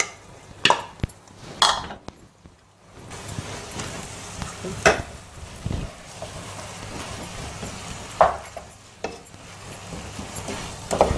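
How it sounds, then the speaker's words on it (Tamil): Cooked rice is stirred and tossed in a hot tawa for tawa rice, giving repeated scraping and clinking strokes of a spatula over a low, steady sizzle at close range. "அந்த சாதத்தை கலந்துக்கலாம்."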